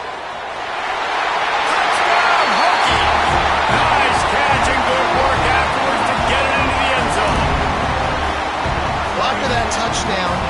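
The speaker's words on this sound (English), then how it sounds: "The crowd here at Lane Stadium is absolutely going crazy." A huge stadium crowd at Lane Stadium roars after a touchdown in a college football video game, a loud sustained wall of cheering that swells a few seconds in, with a commentator talking over it.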